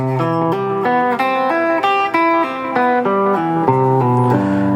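Smooth, flowing guitar arpeggios played with sweep picking and legato sweep up and down through ringing major seventh chords, clean and close, with no pauses.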